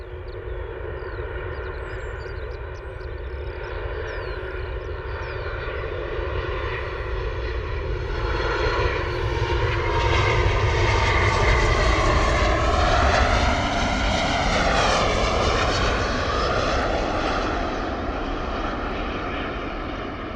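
A Ryanair airliner flies its approach into Bristol Airport in the early morning. Its engines build into a loud, sustained roar with a sweeping pitch shift as it passes close, then ease off slightly.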